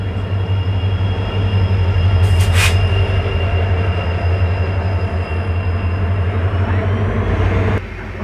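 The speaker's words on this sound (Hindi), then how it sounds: "सामने से आ रही है बाड़मेर ऋषिकेश एक्सप्रेस" The Barmer–Rishikesh Express of Indian Railways rolls past close by at the Bhagat ki Kothi outer signal, a loud sustained roar of wheels on rails with rhythmic clatter, a brief high squeal midway, and a drop in noise as it clears.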